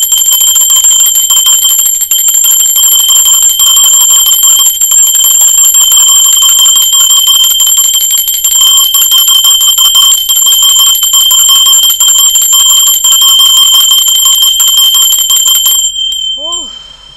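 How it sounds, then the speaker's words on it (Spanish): A bell rings continuously, a sustained bright metallic trill, loud and close, lasting many seconds before stopping abruptly. "Va campana"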